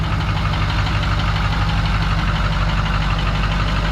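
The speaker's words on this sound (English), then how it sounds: "let everybody hear how this thing idles" A Ford OBS truck's 7.3 diesel engine idles nearby with a steady, low knocking rumble, loud and unchanging throughout.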